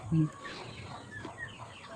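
A Texas-breed rooster gives a short, loud cluck near the start, then outdoor background noise continues with faint activity.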